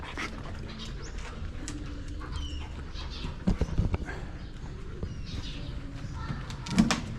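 Dogs playing together outdoors on a walk in the Philippines, with scuffling, panting and soft whimpers, plus a couple of louder bumps and yelps, birds faint in the background.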